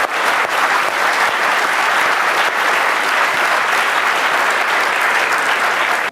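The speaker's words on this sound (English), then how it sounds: "I think that deserves an applause." Loud, sustained audience applause filling the room after an AI talk, a dense steady clatter of many clapping hands that holds for several seconds before cutting off abruptly.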